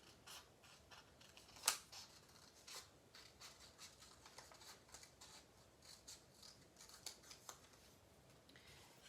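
Scissors snip through fabric along a drawn line while making a dishtowel holder, a faint series of close, soft crisp cuts and rustles with one sharper snip.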